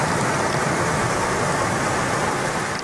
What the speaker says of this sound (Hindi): दीगर इलाके भी शदीद बारिश की लपेट में हैं